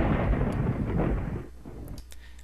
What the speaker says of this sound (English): And we're left with just the thunderstorm.